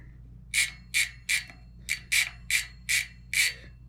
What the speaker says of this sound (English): So what you have making that sound is the pawls going against the inside of the hub.